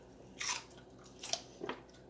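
Three crisp crunching bites into a raw bell pepper, each a short sharp burst, close to the mic with quiet pauses between.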